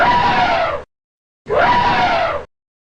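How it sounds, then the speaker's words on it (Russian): An elephant calls twice, each a loud, brassy, wavering blast about a second long, separated by a short silence. "Слон."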